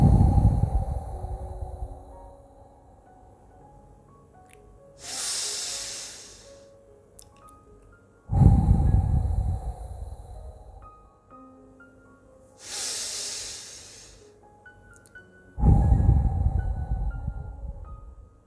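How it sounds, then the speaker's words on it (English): Three slow, deep breaths in a calm breathing exercise, each a long airy inhale followed by a soft exhale, spaced evenly and close to the microphone, under quiet background tones with no talk. "Take 3 deep breaths"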